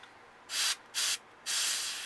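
An airbrush sprays paint onto a bluegill-patterned crankbait lure in three bursts of airy hiss, two short and one longer, close and steady with no talk.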